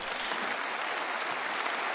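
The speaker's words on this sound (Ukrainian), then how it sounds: "Цю родину оплесками зустрічали європарламентарі." Members of the European Parliament applauding in the chamber, a dense, even wash of clapping from a large seated assembly, steady throughout with no speech.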